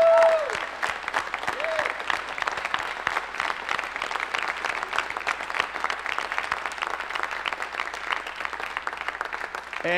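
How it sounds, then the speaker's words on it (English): Church congregation applauding steadily for about ten seconds, a dense wash of many hands clapping at moderate loudness, with a brief voice at the start and end. "would you honor all of these with a round of applause real quickly?"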